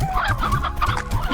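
Hens in Slime Rancher cluck loudly and close, a quick overlapping burst of clucks in a busy flock.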